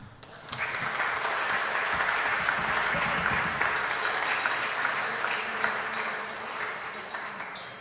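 A church congregation at a Batak-language Sunday service applauding, a sustained burst of clapping that rises quickly and continues evenly for several seconds before tapering slightly.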